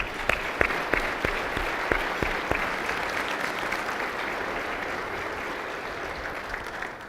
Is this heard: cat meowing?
no